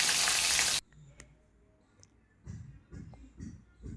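Chopped onion hitting hot oil with panch phoron and sliced green chillies, giving a loud, dense sizzle for under a second that drops to faint crackling with soft kitchen clatter.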